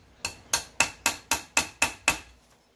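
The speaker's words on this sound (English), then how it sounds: "We use the golden hammer. Tap it, tap, tap," A hammer taps screws into the front end of a 2003 Express van: eight sharp, evenly spaced metallic strikes, close and clear, with no talk.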